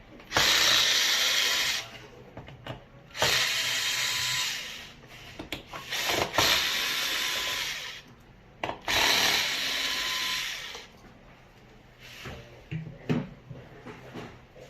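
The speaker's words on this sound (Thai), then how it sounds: "ผมใช้เป็นปืนสว่านนะครับ ในการขันออก" A power drill unscrews screws in several long whirring bursts separated by pauses, with clicking and small handling noises between runs.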